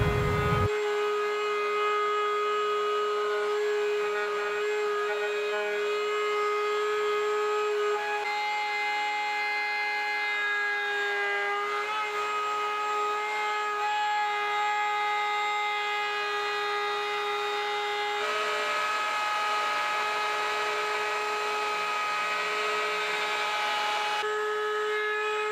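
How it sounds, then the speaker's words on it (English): A router with a 3/4 inch bit whines steadily as it cuts through wood for a guitar template, a continuous high-pitched machine tone with grinding texture lasting throughout, loud and close. "I'm going to use the 3/4 inch bit and remove as much material as it will"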